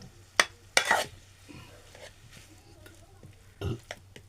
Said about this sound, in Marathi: चांगला आपल्याला परतून घ्यायचा आहे जेणेकरून त्याच्या जर गुठळ्या राहिल्या असतील तर त्याही कमी